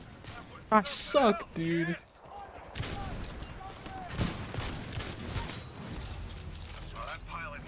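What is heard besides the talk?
gunshots in the video game Titanfall 2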